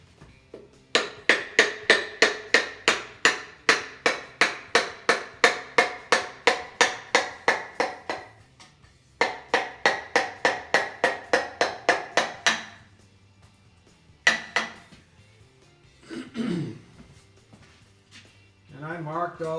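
A hammer taps metal engine parts while pistons are installed, in quick, evenly spaced ringing strikes, close by, in two long runs separated by pauses, followed by a few scattered knocks and handling sounds.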